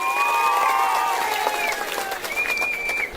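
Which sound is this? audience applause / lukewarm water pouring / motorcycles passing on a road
audience applause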